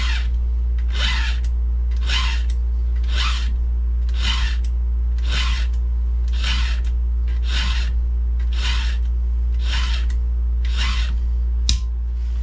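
A file rasps along a 36-inch Archer chainsaw chain, about a dozen evenly paced strokes with brief pauses between them, close and loud over a constant low hum.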